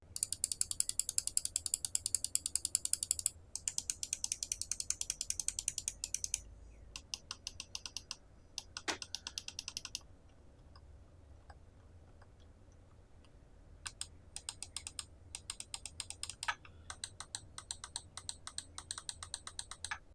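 Rapid bursts of crisp, quiet clicks from a Glorious Model O gaming mouse, its buttons and scroll wheel worked in fast rhythmic runs separated by short pauses.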